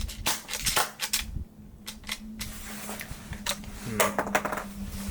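An airsoft shotgun fires from a shell, with several sharp, close snaps and mechanical clacks spread irregularly, separated by handling clicks and a low background hum.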